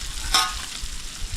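Fish fries in hot oil over a campfire on an island camp, a faint continuous sizzle with one brief sharper crackle near the start and no talk.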